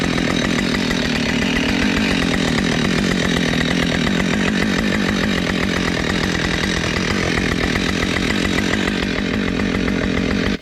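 A Husqvarna-style 572 chainsaw with a 28-inch bar and Oregon full-chisel, full-comp chain runs loud and steady throughout, cutting into a solid tree about 27 inches thick, with no talk over it.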